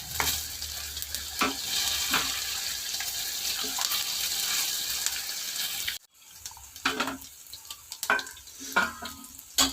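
Curry leaves hit hot oil with a bright, steady crackling sizzle, joined by a few stirring scrapes; midway the hiss drops sharply, leaving softer sizzling punctuated by utensil knocks.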